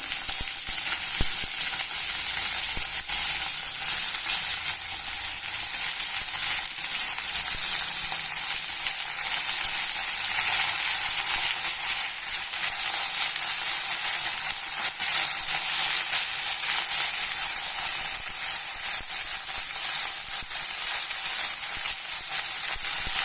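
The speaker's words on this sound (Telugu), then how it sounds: "పోపు వేగిపోయింది. తర్వాత తోటకూర వేసేస్తా." Loud, continuous hissing sizzle of amaranth leaves frying in hot oil tempering, steady and close for the whole stretch with no talking.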